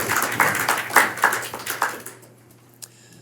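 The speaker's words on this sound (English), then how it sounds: "Let's give Sharon a round of applause" A small class claps for a few seconds, individual hand claps distinct and close, then the applause stops abruptly, leaving a quiet room with a low hum.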